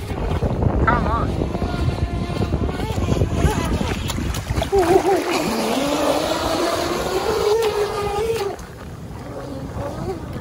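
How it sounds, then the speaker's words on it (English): A cheap Chinese RC racing boat runs through choppy waves, its small motor whining and rising in pitch over strong wind buffeting the microphone, with people talking nearby. "I like the way the boat handled the waves."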